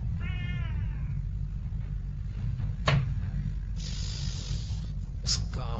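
A cat gives one clear, wavering meow near the start, followed by a sharp knock and a brief hissing rush in an otherwise quiet room.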